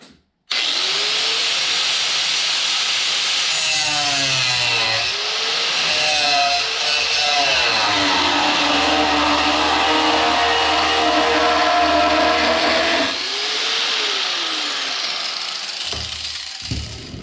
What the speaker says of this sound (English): you notice my cutting wheel is getting smaller and smaller